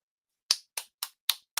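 Five sharp hand claps ring out alone in quick, slightly uneven succession, close to the listener and fairly quiet.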